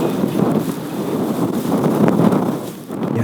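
Strong wind buffets the microphone on a disc golf course, a loud, continuous low rumble that swells and gusts for a few seconds without any voices.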